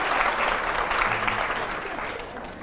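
Audience clapping after a remark by Gharida Farooqi, steady dense applause from a room of people, moderately loud and even, fading slightly at the end.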